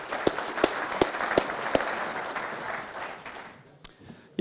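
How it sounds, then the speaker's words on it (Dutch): Audience applause at a water-defence knowledge day, a dense wash of clapping with a few sharper claps standing out, fading toward the end. "Geef hem een applaus."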